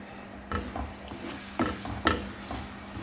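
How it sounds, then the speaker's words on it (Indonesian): Spice paste for chicken coto Makassar stir-fried in a little oil, giving a soft sizzle with several scraping stirs of a utensil in the pan, close and moderately quiet, with no talking. "Kita oseng sampai aromanya keluar semua ya"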